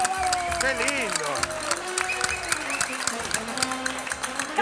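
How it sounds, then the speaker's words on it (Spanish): An audience applauds the dancers on a televised variety show, clapping steadily throughout while a voice and music carry on over the top. "¡Un aplauso bien grande para toda la bailadora!"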